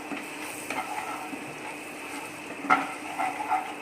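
Steady sizzling frying in a pan while cooking paneer makhani at home, a continuous crackle with occasional light stirring scrapes and a few sharper pops.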